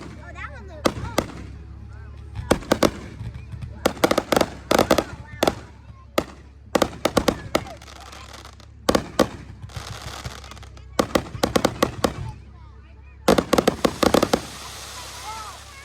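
Fireworks shooting up and bursting outdoors, with repeated clusters of sharp crackling pops and bangs in irregular volleys and short pauses between them, loud and nearby, with people talking faintly underneath.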